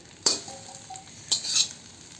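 Curry leaves roast on low heat in an iron kadai, stirred with two sharp scraping clatters a second apart over a quiet background.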